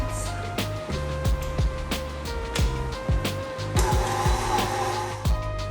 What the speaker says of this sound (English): I'm going to go ahead and mix this on low speed again until everything is combined